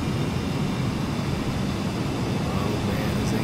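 A fighter jet engine roars steadily at an airfield, a loud, dense, continuous rumble with a broad hiss that holds at full volume throughout.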